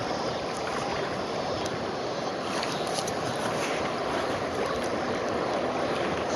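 Kayak moving fast down the Watauga River, with a constant close rush of flowing water and paddle splashes under a steady broadband wash, no talk.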